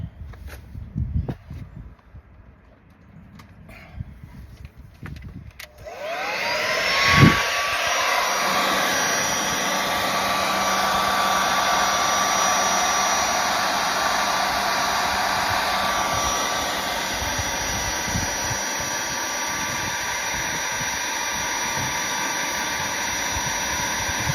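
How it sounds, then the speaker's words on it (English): A hair dryer switches on after a few seconds of quiet shuffling, then blows steadily with a loud, constant whirring rush until the end. "Can you hand me the hairdryer?"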